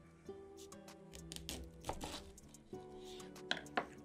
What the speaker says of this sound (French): Déjà, on va les couper en deux.